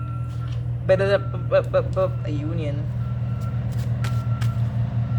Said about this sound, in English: could you hear that beeping that is happening outside?